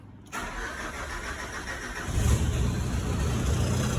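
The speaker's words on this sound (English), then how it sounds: "So let's turn the key and see what it does. The glow plug warm up, and let's crank her." A 1997 Mitsubishi Pajero 2.8 turbo diesel engine cranks briefly and catches, settling into a loud, steady idle with a deep rumble that continues to the end.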